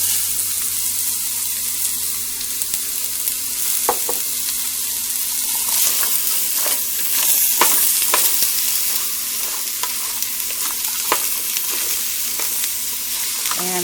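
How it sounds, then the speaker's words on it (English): Onions, celery and diced potatoes cook for a split pea soup with a continuous, fairly loud sizzle. Sharp clicks and scrapes from frequent stirring punctuate it at irregular intervals. "I'm going to let this cook, stirring quite a bit, until the onions have started to become translucent"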